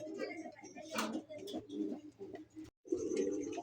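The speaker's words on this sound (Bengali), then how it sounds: "ডাকটা দেখেন কবুতরটার এত সুন্দর ডাক" An Afsan pigeon coos in repeated low, throaty rolls, close by, with a brief break before the cooing resumes.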